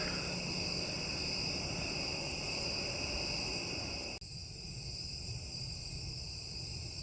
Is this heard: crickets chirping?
yes